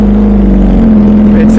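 An MV Agusta motorcycle with an Aero race exhaust and race ECU, close to a near straight pipe, revving loud and close as a steady harsh engine drone, with a slight rise in pitch partway through.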